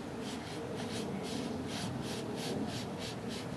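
A wooden hand drill spindle spun with a leather strap on a wooden fire baseboard gives a steady, close friction rubbing with a regular back-and-forth rhythm, about seven strokes in under four seconds, heard alone.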